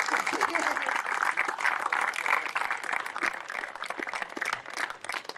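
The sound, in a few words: audience applause for a youth band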